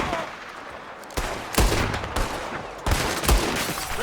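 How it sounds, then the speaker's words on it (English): Gunfire in Red Dead Redemption 2, with shots coming from a window: several loud, sharp reports in irregular bursts over a steady background din. "There's another one shooting from the window!"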